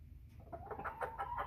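Chickens in a pen give a quick run of soft, rhythmic clucks that rise in pitch, faint and close by, with low background rumble underneath.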